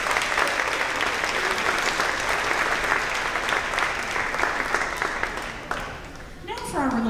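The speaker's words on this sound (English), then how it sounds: "Let's give them a big round of applause." Dense, steady applause from an audience at a third-grade school promotion ceremony, continuing for several seconds before tapering off as a voice begins speaking.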